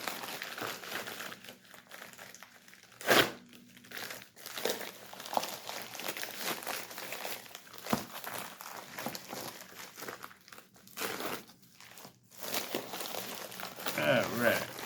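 Packaging crinkles and rustles near at hand while a Cold Steel folding knife is unboxed, in scattered bursts and handling noises, with a voice talking over it.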